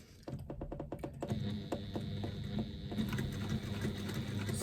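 A sewing machine stitches a seam through a bag panel with foam stabiliser, its rapid rhythmic needle clatter starting after a brief pause and running steadily with a motor hum underneath.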